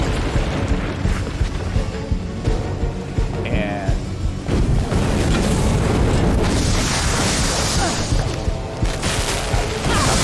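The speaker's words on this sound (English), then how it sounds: "And there's a whole bunch of explosions." Loud, continuous barrage of booming explosions in the video game We Happy Few, dense and sustained with crashing debris throughout, while a voice speaks briefly over the din.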